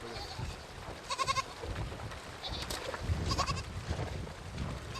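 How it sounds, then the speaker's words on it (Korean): A frightened young goat left behind on the bank during a winter river crossing with a nomadic herd in remote Siberia bleats in several short, wavering cries over steady outdoor noise. "겁에 질린 새끼 염소 한 마리가 남았습니다."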